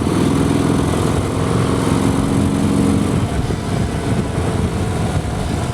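Large Harley-Davidson motorcycle engine running at low RPM, a steady loud rumbling drone with a throbbing low pulse, holding fairly even throughout with slight variation near the end.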